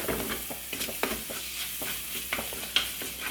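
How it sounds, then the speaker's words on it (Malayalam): Onions sizzling in a pan for crab biryani masala, a dense, steady frying hiss with small spatula scrapes, close and fairly quiet. "നന്നായിട്ട് സവാള ഇതുപോലെ ഒന്ന് വഴന്നു വന്നിട്ടുണ്ട്"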